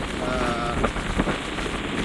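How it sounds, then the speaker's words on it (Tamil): Rain falling outdoors in the Elephant Pass area makes a steady, even hiss, with a few faint tones and taps showing briefly through the wash. "இந்த பகுதியிலையும் வந்து கூடுதலாக இப்போ மழை வீழ்ச்சி இருக்குது"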